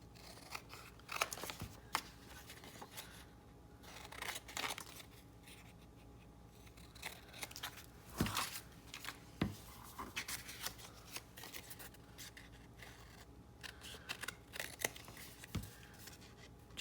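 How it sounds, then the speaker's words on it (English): Scissors snipping off excess paper on a crafted file folder journal, a series of quiet, close crisp cuts and rustles spread unevenly over the whole stretch. "Okay, cut off the excess."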